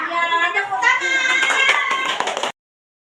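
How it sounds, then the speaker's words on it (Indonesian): Hands clapping in a primary-school classroom lesson, with a few quick claps mixed under a group of children's chanting voices for about two and a half seconds before sudden silence. "Tepuk tangan"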